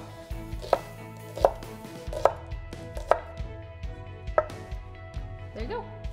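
A knife chops shallots on a cutting board in close, crisp strikes, about seven evenly spaced thuds over a faint steady background, ending with a few lighter cuts.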